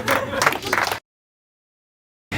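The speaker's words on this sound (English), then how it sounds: "Big round of applause for Emma" An audience at a magic show, during a book test performance, breaks into applause and cheering for Emma, a loud burst of clapping that cuts to silence and then briefly resumes.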